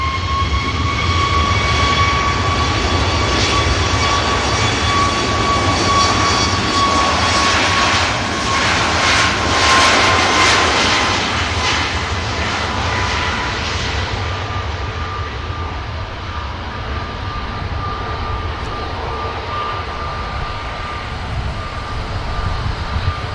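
A heavy jet aircraft landing at Manchester Airport, its loud, steady engine roar with a high whine building to a peak mid-way, then easing off, continuous throughout.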